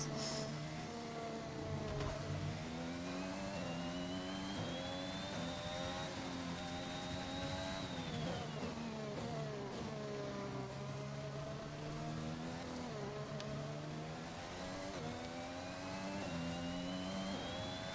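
Formula 1 Ferrari race car engine in the F1 2021 video game at the Canada circuit, a sustained high-pitched whine rising and falling steadily with gear changes, loud and continuous throughout with no speech.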